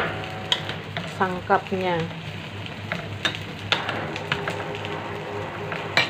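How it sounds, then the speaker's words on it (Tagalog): Pinakbet vegetables and fish get stirred in a sizzling pan, with the spoon knocking and scraping in uneven strokes over a steady frying hiss while a voice speaks briefly. "Haluin natin para mahalo yung isda tsaka mga"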